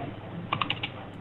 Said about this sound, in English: You can hear him typing.